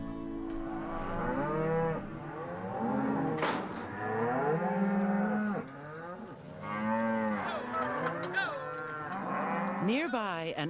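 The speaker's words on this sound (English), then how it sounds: "plans to drive his cows into Frontier Valley" Cattle driven by a rancher in Montana moo repeatedly, several long, loud lowing calls from multiple cows overlapping one another across an open outdoor setting.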